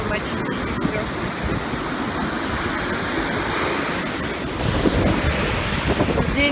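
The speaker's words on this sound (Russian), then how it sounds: "Волны ветровые." Wind-driven ocean waves roll and crash onto the beach at Ocean City, a loud, continuous roaring surf with heavy wind buffeting the microphone throughout.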